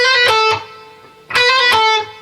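Two short electric guitar phrases from a solo, each built from a bent note with a hammer-on and pull-off, played clean and close with a brief pause between them and no talking.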